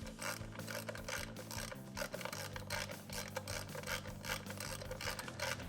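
A ratcheting tool clicks rapidly and continuously, close and loud, as a part is unscrewed off its thread on a Triumph 650 motorcycle engine during disassembly.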